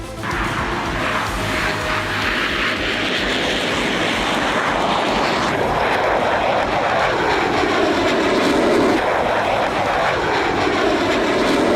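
An F-16 fighter jet in flight roars loudly and steadily for the whole stretch, its broad engine rumble swelling and sweeping in pitch as it passes close overhead, with no voices.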